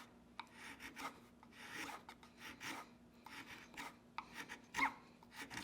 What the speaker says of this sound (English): Let's grab the 1/4 inch chisel.